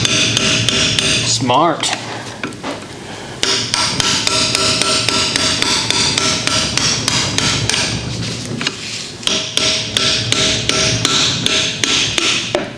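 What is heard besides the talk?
claw hammer tapping on a transmission cap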